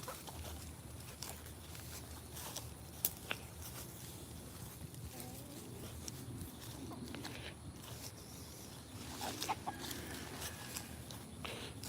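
Faint, scattered clucks from a rooster somewhere off in an outdoor garden, low and intermittent against quiet background noise.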